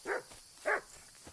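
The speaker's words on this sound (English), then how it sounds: "That was a dog barking at." Two sharp dog barks in the video game Kingdom Come: Deliverance II, spaced about half a second apart, moderately close, followed by quiet.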